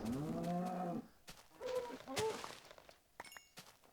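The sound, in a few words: cow being attacked in Minecraft (video game)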